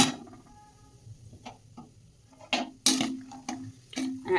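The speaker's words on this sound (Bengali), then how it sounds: "এবার আমি কিছু বাদাম ভেজে নেব" Peanuts frying in a pan are stirred with scattered scrapes and clicks, growing louder and busier toward the end over a quiet background, with no speech.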